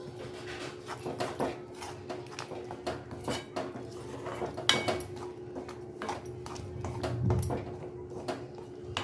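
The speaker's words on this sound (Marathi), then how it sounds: "हे पण आपण ह्याच्यात टाकणार आहोत आणि परत आपण हलवून घेणार आहोत" Indian gooseberry preserve with spices is stirred in a pot, giving scattered close scrapes and soft clinks of the spoon against metal, irregular and fairly quiet.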